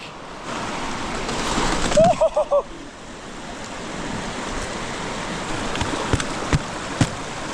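Someone wading into water in flannel jeans, with continuous splashing and rushing water, brief sharp splashes and a few quick knocks nearby, and a voice briefly breaking through.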